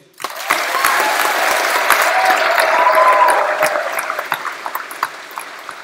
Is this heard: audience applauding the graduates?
yes